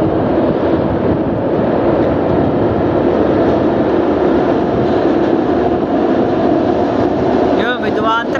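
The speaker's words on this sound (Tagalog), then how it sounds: "Yun, may dumaan train." A train crosses the Vasco da Gama bridge with a loud, continuous rumbling roar, heavy wind buffeting over it from start to finish.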